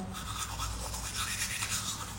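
Teeth are scrubbed with a bamboo toothbrush and whitening powder. The bristles make a steady, close, wet scratching that continues without a break.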